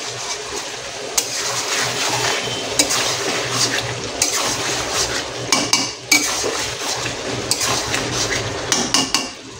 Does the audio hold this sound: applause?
no